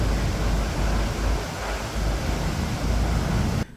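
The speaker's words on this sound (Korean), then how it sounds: "지금 보시는 151m 높이의 스털링 폭포입니다" Stirling Falls, a 151 m waterfall at Milford Sound, New Zealand, roars as a loud, continuous broadband rush heard from a cruise boat, mixed with wind buffeting, and it cuts off abruptly at the end.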